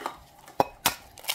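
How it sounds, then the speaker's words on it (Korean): Eggs being cracked one after another against a bowl for a Korean steamed egg dish with flying fish roe, heard as three sharp, close taps spaced apart, with a fainter fourth at the end. "달걀 깨겠습니다."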